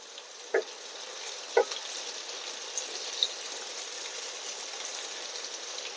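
Bitter gourd pieces fry with a steady soft sizzle in a pan while being turned for masala, with two distinct clinks or scrapes from the turning early on and a few faint pops later.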